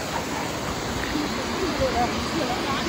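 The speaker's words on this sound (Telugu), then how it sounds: "ఇది వాటర్ఫాల్ గైస్." Steady, broadband rushing of a waterfall at Lonavala fills the clip without a break, a constant roar with faint scattered tones drifting over it.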